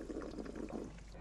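Fresh well water pours in a steady, soft, close trickling stream, ready for drinking, quiet and without voices.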